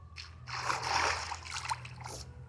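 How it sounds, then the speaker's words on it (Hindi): Flowing water in the Minecraft video game comes as soft, splashy trickling bursts that rise and fall over a couple of seconds, fairly quiet and without talk. "कहीं से भी निकल आता है ये पानी।"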